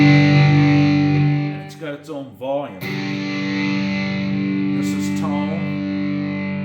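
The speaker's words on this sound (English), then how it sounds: "You snap this button on and you got distortion." A First Act Volkswagen electric guitar with a built-in distortion circuit rings out with sustained, fuzzy, distorted chords, loud and continuous, while someone talks over part of it.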